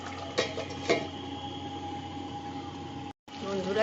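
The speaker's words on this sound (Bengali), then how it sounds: "আমি একটু নেড়ে চেড়ে দিলাম আর কি" A Goalondo steamer-style chicken curry being stirred in a pot, heard as a few soft scraping clinks of a spoon against the pot over a low continuous hum, near and fairly quiet.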